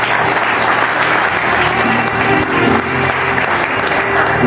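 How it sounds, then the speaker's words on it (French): Loud, close audience applause at a Bible school graduation, thick continuous clapping with a faint murmur of voices mixed in, holding steady throughout. "Pour votre applaudissement"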